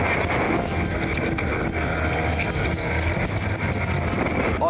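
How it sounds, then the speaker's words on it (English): Inflatable rescue boat motor running at sea during a kitesurfer rescue, with a line wrapped around the engine: a constant loud engine drone blended with wind and water rush, steady throughout. "Fortunately, the motor is still going."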